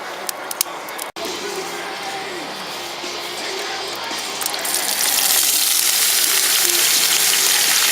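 Hot coconut oil sizzles in a cast iron pan, a steady, close frying hiss that swells louder partway through and then holds at full strength.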